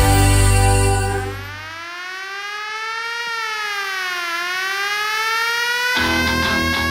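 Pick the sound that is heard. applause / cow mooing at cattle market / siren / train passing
siren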